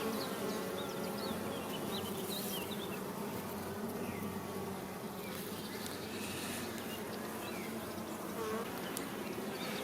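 Honeybees buzz densely and continuously around a brood frame lifted during a spring hive inspection, a close, even drone with no talk.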